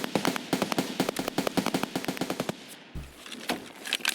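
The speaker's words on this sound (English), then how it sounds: "Wait, they're shooting at someone else." Rapid bursts of automatic gunfire in the video game Escape from Tarkov, loud and sharp, firing for several seconds before a brief pause and a few scattered later shots.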